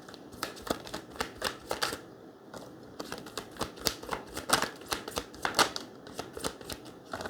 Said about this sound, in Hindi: मैं पहले यहाँ पे कार्ड निकालूँ फिर हम बात करेंगे